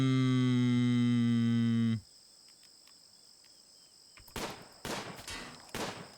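Gunfire from raiders during a Rimworld colony raid, a few sharp broadband bursts clustered in the last two seconds after a sustained tonal hum cuts out, moderately loud and with no talk.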